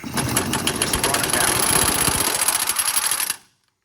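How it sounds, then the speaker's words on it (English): An impact gun with a 28 mm socket spins a control arm nut off a 2004-2008 Ford F150 upper control arm. A loud, close, continuous rattling hammer runs for about three seconds and then stops abruptly. "I got my 28 millimeter socket on my impact gun and just put it on there, no pressure."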